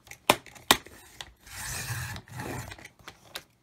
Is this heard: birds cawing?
no